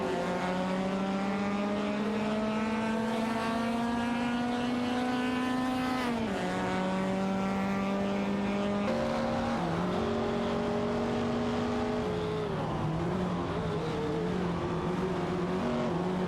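Toyota Celica and Porsche 904 race cars in a video game racing event, engines droning loudly with rising pitch that drops at gear shifts and pass-bys, one engine note sustained throughout without talk.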